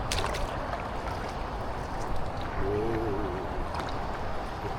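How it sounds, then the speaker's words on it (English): Paddleboard paddling back along the River Dee, with steady broadband water wash and faint splashing from the paddle, continuous and fairly even with mild wind noise and no talk. "we're paddling back now"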